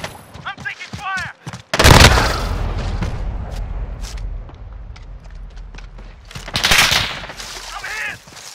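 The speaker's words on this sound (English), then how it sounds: "I'm taking fire!" Gunfire erupts in the Modern Warfare video game, with two heavy bursts of loud shots and rumbling booms separated by quieter stretches of battlefield noise and sporadic cracks.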